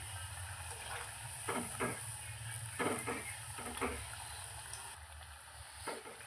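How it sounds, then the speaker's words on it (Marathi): Cabbage veg 65 pieces deep-frying in hot oil give a steady, close sizzling hiss that swells into several short, crackly bursts as they are stirred or turned. "असे फ्राय करून घ्यायचे आहेत एकदम क्रिस्पी आणि कुरकुरीत"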